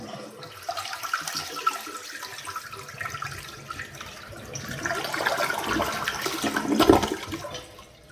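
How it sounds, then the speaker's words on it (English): An Eljer Canterbury one-piece toilet flushes, starting with a hollow rush of water that builds into a louder swirling gush and gurgle near the end before tapering off, heard up close in a quiet bathroom with no talking. "Now we're going to see the flush."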